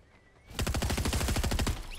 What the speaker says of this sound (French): Oh, on me tire dessus.